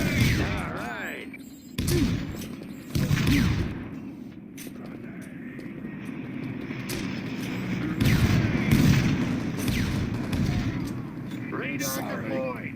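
Grenade explosions and gunfire in the video game Quake Wars on a volcano map, repeated booming blasts and bursts of shots over a constant rumbling battle background, with voices calling out over the action.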